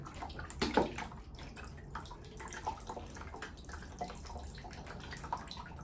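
Water pours onto potted houseplants in a soaking session, a soft steady trickle and splash with faint drips that continue across the whole stretch at close range.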